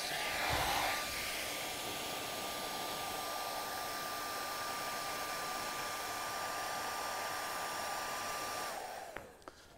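A hair dryer blows onto a ping pong ball held in its airflow, with a constant, even whoosh and a faint high whine for several seconds, then switches off with a small click.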